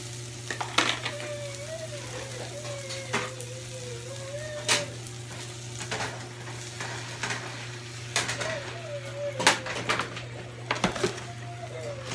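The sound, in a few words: eggs frying in a pan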